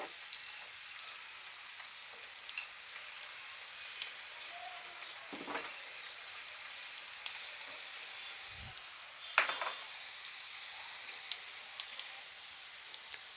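Potatoes frying in a pan while cooking kochu shak (taro leaves): a faint, steady sizzle with occasional soft clinks of a utensil against the pan.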